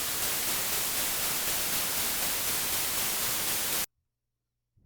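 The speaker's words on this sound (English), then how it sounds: "white noise is random frequencies generated equally across the whole spectrum" Loud, even hissing white noise from a synthesizer fills the air for a few seconds, then cuts off abruptly to near silence.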